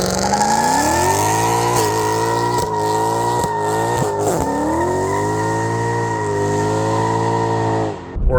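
A 2000s V8 luxury saloon, either a Mercedes E63 AMG or a BMW M5, doing a burnout: a loud, close engine holding high revs with rising and dipping pitch, tyres squealing throughout, and a few sharp throttle blips.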